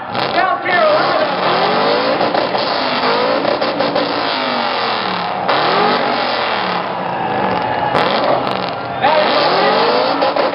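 A BMW M5 from South Carolina revs hard at an exhaust competition, its engine climbing and falling in repeated loud sweeps, with crowd chatter and voices running underneath throughout.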